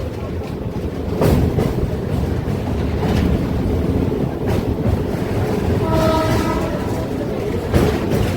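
A Howrah to Panskura local train rumbles steadily from inside a carriage, with rail clatter and a brief tonal horn-like sound midway.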